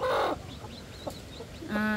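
Guinea fowl on a mountain farm give loud, harsh, clucking calls, with a burst at the start and another rising call near the end, close to the listener.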